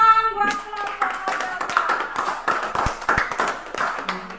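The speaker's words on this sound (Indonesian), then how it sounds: "Tepuk tangan buat kelompok" A classroom of students applauding a student group, a brief burst of many hands clapping together, fairly close, with a few voices mixed in.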